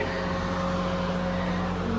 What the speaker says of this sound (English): the vent is gonna make hella noise once you turn it on